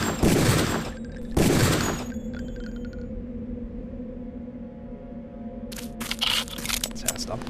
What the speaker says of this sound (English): then we can shoot someone in the head